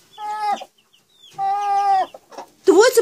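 A hen clucks and moans in drawn-out, harmonic calls, two long ones with a pause between, then a sharper agitated cluck at the end, close by.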